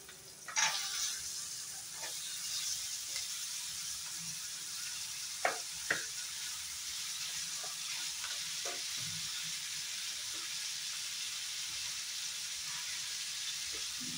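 Chopped potatoes frying in a pan, a steady soft sizzle with occasional sharp clicks and spatters, fairly quiet and close.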